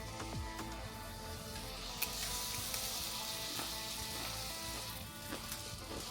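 Chicken smashburgers, four to a batch, sizzle loudly and continuously in a hot pan, with a bright spitting hiss that swells after a sharp clack partway through.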